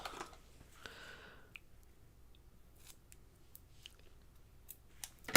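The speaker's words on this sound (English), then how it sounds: "I'm going to cut this one in half." Scissors cutting a piece of craft paper in half, with a short snipping stretch near the start and then faint scattered clicks and rustles in a quiet room.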